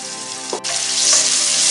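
Cumin, cloves, cinnamon and cardamom sizzling loudly in hot olive oil with ginger garlic paste, a dense close frying hiss broken by a brief stir.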